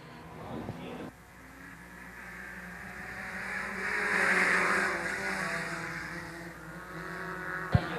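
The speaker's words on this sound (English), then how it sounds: "They try to get a side-by-side start. RPMs come up, and we're green." Stock cars at Shelby County Speedway rev up together for a side-by-side green flag start, engines rising into a loud, building roar that peaks midway and stays strong, with a sharp knock near the end.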